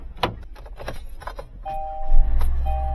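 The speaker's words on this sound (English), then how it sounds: "Let's go ahead and start the car." A car engine cranks and catches after being hooked to a portable Andeman jump starter, a low rumble building to a steady idle, with a beeping tone from the starter unit and key jangles earlier.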